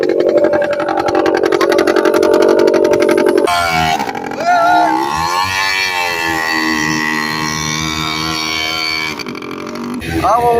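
A quad bike engine on red desert sand near Riyadh revs hard and strains up a slope. Its pitch climbs, sags and surges again, loud and close, then drops off near the end.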